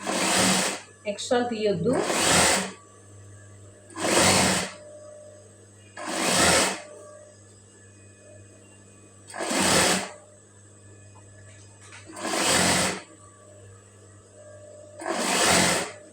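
A sewing machine stitches a blouse round neck in short, loud, evenly spaced bursts of whirring, about seven in all with quiet gaps between them, while someone speaks briefly near the start.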